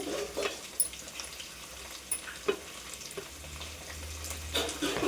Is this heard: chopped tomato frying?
yes